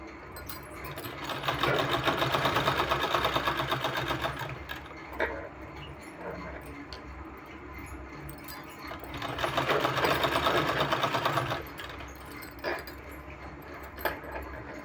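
A sewing machine runs a stitch along the edge of a round-cut neck design on fabric, in two steady whirring bursts separated by quieter handling, with no talking.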